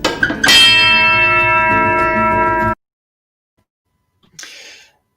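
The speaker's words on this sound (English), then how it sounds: "then we go back to the engine room gong." A single loud metallic strike of an engine room gong rings out with a sustained, shimmering tone before cutting off, followed by a brief fainter clank after silence.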